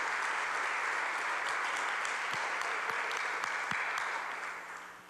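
A church congregation breaks into sustained applause, a dense wash of many hands clapping together at an even level before it starts to fade near the end, with no speech over it.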